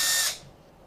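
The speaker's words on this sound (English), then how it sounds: "I'm going to drill 3 holes" A brief burst of high-pitched drilling into headphone plastic that stops abruptly, leaving a faint quiet tail.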